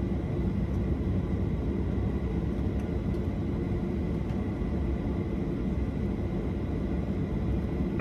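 An aircraft taking off from runway 16 left at SeaTac makes a steady, dense engine roar and rumble that holds at constant loudness throughout, with no voices over it.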